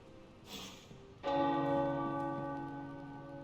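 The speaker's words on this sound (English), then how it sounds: "The tower bells are ringing." A single deep tower bell strike in the video game Midnight Suns rings out and hums as it slowly fades, following a soft rustle just before.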